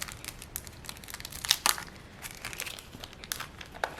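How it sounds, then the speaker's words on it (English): Plastic sheet being folded over the top of a handmade shaker card, giving close, quiet crinkling and crackling with a few sharper crackles midway. "I fold the plastic over so it's at the very top of the card"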